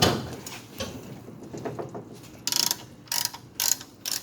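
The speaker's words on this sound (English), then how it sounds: "Get your ratchet, put it on, and watch the magic happen." A ratchet clicks on a socket fitted over a rounded bolt being loosened, a few quiet handling taps giving way to several sharp, close bursts of ratcheting clicks.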